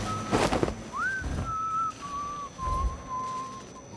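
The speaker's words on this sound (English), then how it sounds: "Definitely heard somebody whistling." Someone whistles in Dishonored 2, a clear, thin tune that slides upward and then holds and wavers over a few seconds. Soft footsteps and rustling sound underneath.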